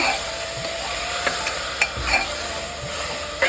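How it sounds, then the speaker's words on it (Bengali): Tomato paste sizzles and fries with mutton and onions in a pot for a pressure-cooker goat curry, steady close hiss broken by a few soft stirring scrapes and clinks, no voices. "এখন এই টমেটোর পেস্টটা দিয়ে দিচ্ছি। কিছুটা কষিয়ে নেব"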